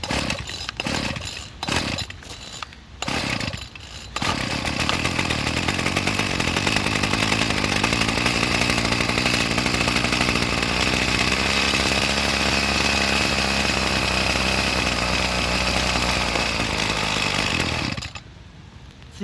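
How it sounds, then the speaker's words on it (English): A Ryan two-stroke weedwacker, restored and running on starting fluid, sputters through a few short bursts before catching into a loud, steady buzzing run for about fourteen seconds, then cuts off abruptly. "I'm gonna give it a little run so you can hear it."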